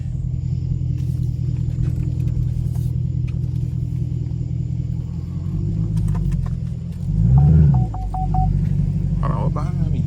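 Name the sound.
straight-piped 2017 Camaro SS engine rumble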